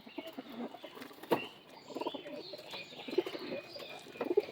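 Madras pigeons coo softly in a loft, with repeated low throaty coos and a few sharp chirps scattered through, faint and close, along with light rustling.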